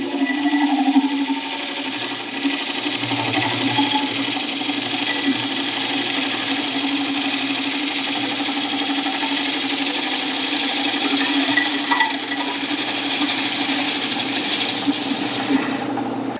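A woodturning lathe spins a wooden bowl blank as a tool cuts it, producing a loud, steady mechanical whir with a rough, continuous cutting hiss that holds for about sixteen seconds before stopping abruptly.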